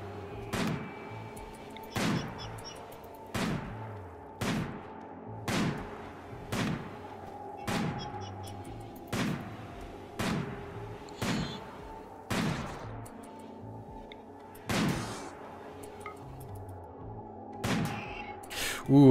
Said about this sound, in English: Okay, then we'll shoot your pal out here.